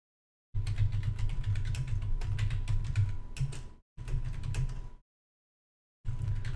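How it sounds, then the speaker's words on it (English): Steady computer keyboard typing runs in long bursts of rapid key clicks, close to the microphone, broken by a short pause and then a longer silence before the tapping resumes. "You're gonna hear my typing, by the way."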